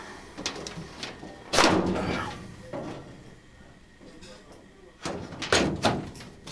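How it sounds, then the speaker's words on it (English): Sheet-metal access door panel on a home furnace being pulled off and set back on, giving a couple of loud rattling clanks with quieter handling noise between, heard up close during HVAC troubleshooting. "Pull the door off, put it back on, and reset the board"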